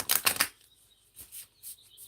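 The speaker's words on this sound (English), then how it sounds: "so I am shuffling my deck" A deck of Spirit Keeper's tarot cards is shuffled close by, a quick burst of riffling flutters followed by softer, scattered card slides.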